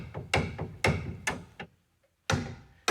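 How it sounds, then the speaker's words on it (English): A steering shaft on a Mopar steering box is tapped to seat its splines, giving a handful of sharp, close metallic knocks at uneven intervals, with a short pause before a final strike. "She's having to tap this thing to get the splines to engage up to the point where we can get a roll pin in it"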